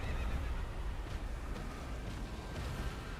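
A horse whinnies in Elden Ring (Reforged mod) over a dense, rumbling game soundscape, the neigh blending into steady background noise.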